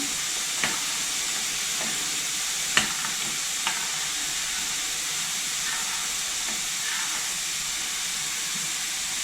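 Rice cooking in a pot is stirred over a steady sizzling hiss, with a few faint scraping knocks of the spoon scattered through.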